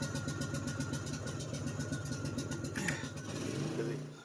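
Small engines being worked on in the background on a rural property, a steady running engine throbbing at moderate distance with a brief rev near the end.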